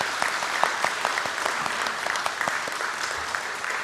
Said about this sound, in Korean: 다시 한번 우리 격려의 박수로 축복할까요?